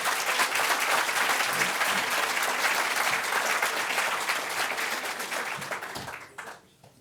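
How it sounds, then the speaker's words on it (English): Dense audience applause for a panel at an international festival event, loud and sustained clapping from a large crowd that tapers off near the end. "So a big round of applause for this extraordinary panel."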